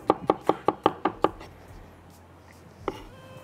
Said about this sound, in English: Just gonna chop them so that they break down easier in a pestle and mortar.